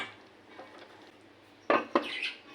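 A spoon stirs thick mushroom curry in a pan: a quiet stretch of soft movement, then two sharp metallic scrapes and clanks near the end, close and fairly loud.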